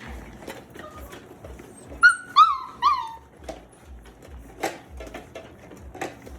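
Five-week-old puppies whimper and yip with a quick cluster of high, sliding squeals, followed by scattered softer whines and small clicks and thumps. The puppies are close and sound alone, with no talking over them.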